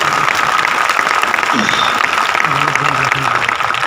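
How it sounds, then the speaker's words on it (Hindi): An audience applauds at a talk or lecture, with steady, loud, dense clapping throughout and a voice speaking faintly underneath. "एक बार उनके लिए जोरदार ताली होनी चाहिए।"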